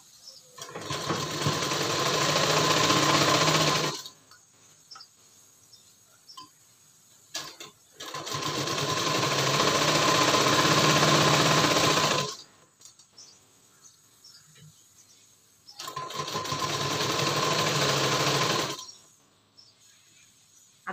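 Sewing machine stitching a prince-cut designer blouse, running in three long steady bursts of several seconds each with short quiet pauses between, close and fairly loud with no talking.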